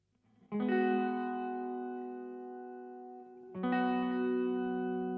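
A Telecaster electric guitar strums two sustained chords run through delay and reverb effects, each ringing out smoothly and decaying slowly, clean and alone without voices.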